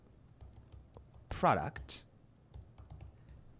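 Someone types on a computer keyboard, with a scattering of light clicks running beneath a person talking.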